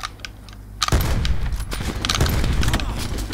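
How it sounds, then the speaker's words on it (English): Video game gunfire erupts during a one-on-one match, a rapid dense rattle of shots that starts abruptly after a moment of quiet and keeps going loud and close, with an excited voice mixed in. "I'm using a gun now"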